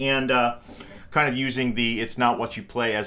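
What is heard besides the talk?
No everyday noises stand out.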